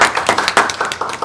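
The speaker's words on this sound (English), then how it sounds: "we give Ms. Sams an applaud for her efforts in getting this money?" Brief applause from attendees at a board of education meeting: a quick patter of overlapping hand claps, fairly close and even, with no talk.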